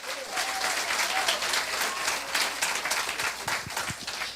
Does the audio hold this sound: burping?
no